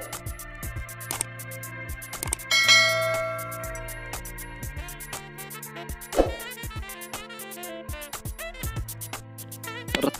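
A notification bell sound effect rings out in a series of bright metallic dings and chimes over a layered musical backing, with several sharp struck hits spread across the passage and no talk.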